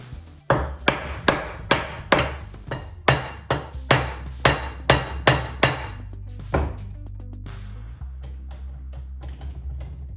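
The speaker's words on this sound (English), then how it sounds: "I use the rubber hammer, carefully tap on top" Steady, evenly spaced thuds of a rubber hammer tapping on a Volvo TGB portal axle part, a dozen or so firm knocks, close up, then quieter fainter taps at the end.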